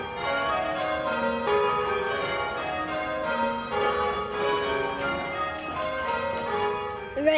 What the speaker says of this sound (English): The ropes pull the bell round. Here are the bells.